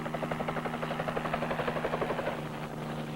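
A Marine helicopter flies while paying out wire, its rotor giving a rapid, even thumping over a droning engine hum that stays moderately loud and steady before easing slightly at the end.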